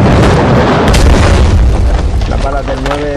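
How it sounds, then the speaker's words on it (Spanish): Bomb blasts in the mobile battle game PUBG Mobile, a loud continuous booming rumble that fades slightly toward the end, with someone talking over it. "A ver si se quitan ya estas bombas"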